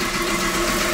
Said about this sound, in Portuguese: Primeira partidinha do dia. O motor vai esquentar.